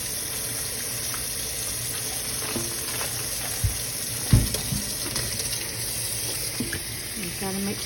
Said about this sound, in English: So I do rinse my turkey.